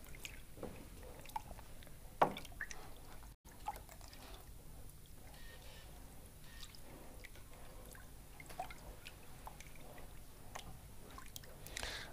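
Cyanotype paper rinsed of its chemical in a water bath with a fingertip, faint close drips, trickles and small splashes scattered over quiet background.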